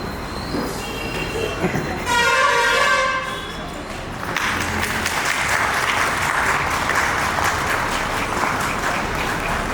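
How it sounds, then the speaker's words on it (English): Applause from parents and teachers at a preschool's 20th annual day celebration, a steady, dense clapping that swells and holds for several seconds, with a voice heard briefly over it near the start. "Please give her a huge round of applause, all the parents, teachers."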